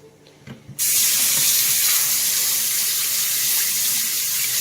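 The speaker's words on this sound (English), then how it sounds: "I'm going to rinse this off real good." A whole Thanksgiving turkey is rinsed under a running kitchen tap: after a brief quiet start, a loud, steady rush of water begins and continues without break to the end.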